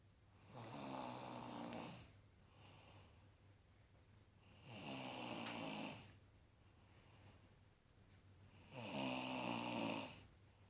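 A woman snoring in three long, loud rasping breaths, each swelling and fading with quieter breathing between them, close and alone.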